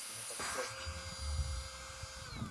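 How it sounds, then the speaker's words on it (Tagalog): The motor of a portable 3-in-1 vacuum cleaner hums steadily with a high whine, close by, running continuously for a couple of seconds. "umiikot yung kanyang motor medyo umigoma siya."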